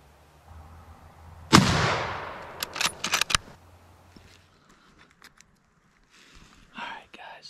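A single loud rifle shot during a Pennsylvania deer hunt, sharp and close with a long rolling echo, followed by rustling and handling noises and faint whispered talk.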